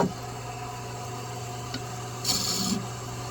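A wooden bowling pin spins on a lathe as its edge is beveled, a steady motor hum with faint rubbing and a brief louder rasping scrape near the end.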